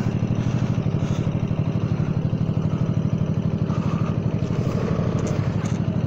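Honda Forza 300 scooter riding with a steady, close engine drone and rapid mechanical pulsing throughout, loud and continuous with no talk.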